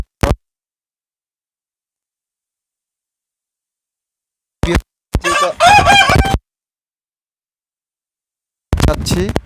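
A hill desi rooster crows loudly and close by in one long, rising call, preceded by brief clucks from the flock, with long silent gaps between the bursts.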